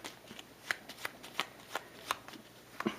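Cards from the agenda deck of a Fallout board game are shuffled in a steady riffling rhythm, about a dozen crisp flicks and snaps at close range, quiet and with no talking.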